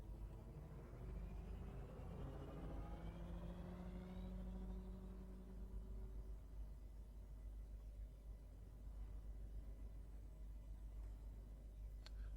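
Eagle spaceship from the game Elite Dangerous flying closely past, a rising then falling whine with engine-like tones like a racing car over a low steady rumble, fading after a few seconds.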